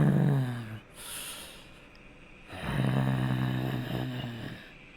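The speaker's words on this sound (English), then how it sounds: "You can hear the sound of agitated breathing echoing clearly from deeper down" Ragged, agitated breathing echoes up from somewhere deeper below, heavy snorting breaths in two long drawn-out bursts separated by a brief quieter gap, hollow and reverberant.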